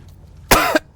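Two short, loud coughs close to the microphone, the first harsher and longer, the second cut off quickly, alone with no talk.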